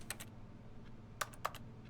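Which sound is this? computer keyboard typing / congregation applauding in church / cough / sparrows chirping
computer keyboard typing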